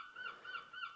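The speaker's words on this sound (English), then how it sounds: "sorry if you can hear the seagulls in the background" Seagulls call outside an open window on a hot day, three quick nasal honking squawks in an even rhythm, faint and somewhat distant.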